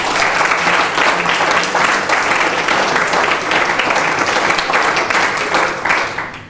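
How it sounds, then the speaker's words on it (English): Sustained audience applause at a Peace Corps Connect gathering in Boston, dense steady clapping from a large room that holds at full volume for several seconds and begins to taper at the very end. "I think she deserves a round of applause for that."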